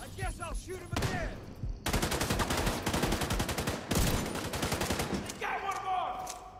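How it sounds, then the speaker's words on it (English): Rapid bursts of gunfire from the Tom Clancy's The Division 2 video game, loud dense volleys of shots in several stretches with short pauses between them, and game voices and effects in the brief gaps. "I guess I'll shoot him again."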